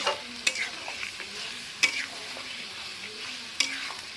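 Onion and garlic fry in a pan with a soft, steady sizzle, broken by three sharp clacks of a spatula or spoon striking the pan, close by and otherwise quiet.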